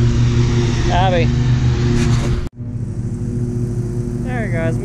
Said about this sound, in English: I got mowing on both sides of me right now, so we'll really test the volume of this camera.